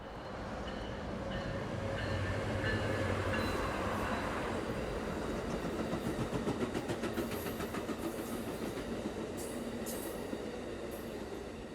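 A freight train rumbles past near LA Union Station, caught on a cell phone: a steady, loud wheel-and-car roar with rhythmic clatter and faint squeals from the rails, sustained throughout.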